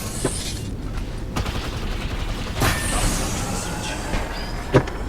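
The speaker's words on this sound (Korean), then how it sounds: "기차 역을 떠났어" A train pulling out of a station inside a video game, a steady rumbling mechanical bed with a few sharp transient bangs that sound like gunfire, moderately loud and continuous with no talking.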